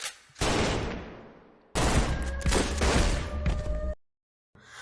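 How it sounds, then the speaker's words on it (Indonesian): Gunfire in a film scene as Rafinzai shoots Farun: loud, dense bursts of rapid shots crack out in two long volleys, then cut to a brief silence before another burst begins. "Lalu Rafinzai menembaki Farun."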